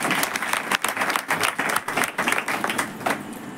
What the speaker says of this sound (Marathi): एकदा जोरदार टाळ्या वाजवा दोघांसाठी.